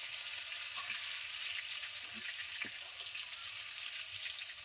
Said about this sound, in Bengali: মাছগুলোকে খুব ভালো করে ভেজে নেব।